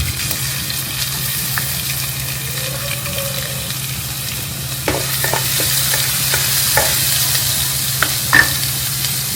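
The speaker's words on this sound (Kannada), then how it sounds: "ಇವಾಗ ಸಾಸಿವೆ ಸಿಡಿಯೋದಕ್ಕೆ ಸ್ಟಾರ್ಟ್ ಆಯಿತು" Mustard seeds splutter in hot oil in a pan over a constant low hum, with scattered sharp pops and crackles that grow more frequent toward the end.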